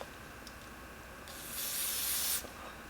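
Hairspray sprayed from a can onto the lace of a wig during a no-glue install: one close, steady hiss lasting about a second, standing out from a quiet room.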